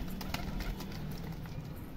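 Pigeons in a loft, kept active and fed millet through the cold season, give low cooing murmurs with scattered bird noises and light shuffling, steady and close throughout.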